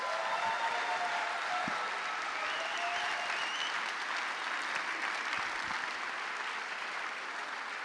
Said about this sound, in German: Wir begrüßen den letzten Starter vor der Pause mit einem riesigen Applaus.